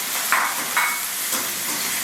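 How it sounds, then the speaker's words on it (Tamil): Mustard seeds crackle and pop in hot oil with curry leaves and chillies, a few sharp bursts standing out over a constant loud sizzle. "கடுகு வெடிச்சிருச்சு"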